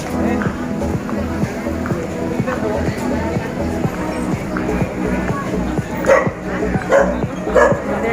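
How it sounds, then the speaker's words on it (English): A dog barks several times in short bursts over a steady background hum, with voices talking nearby. "There's a dog barking."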